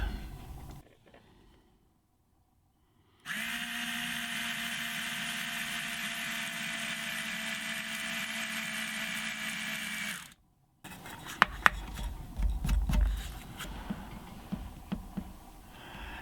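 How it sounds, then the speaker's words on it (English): A steady, high-pitched drill whine runs for several seconds after a quiet pause, drilling a wooden guitar fretboard for a fifth-string nut, followed by clattering and knocks as work continues. "So now I can go ahead and drill the fretboard."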